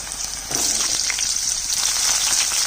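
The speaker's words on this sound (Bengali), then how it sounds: "আলু মিষ্টি আলু আর কাঁচা কলাটা একটু ভেজে নিচ্ছি" Potatoes, sweet potato and raw banana pieces frying in hot oil in a home kitchen, a steady bright sizzle that grows slightly louder after the first half second and continues evenly.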